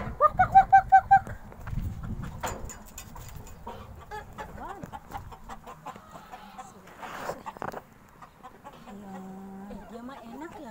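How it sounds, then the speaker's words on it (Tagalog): A flock of chickens clucks on a farm, with loud rhythmic clucking bursts at the start, then scattered squawks and calls mixed with people talking. "Ayan, yung mga manok. Ay, kita yung mga manok. Ang dami."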